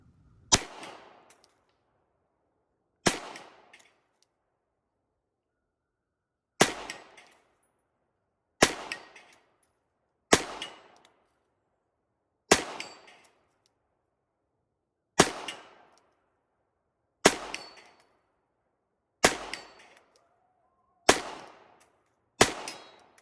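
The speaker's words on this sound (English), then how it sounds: "I'm just gonna toss it over here" A pistol fitted with a Holosun 407C-GR red-dot sight tossed repeatedly onto rocky ground during a drop test, eleven sharp clattering impacts spaced a few seconds apart, each followed by a short rattle, with silence between.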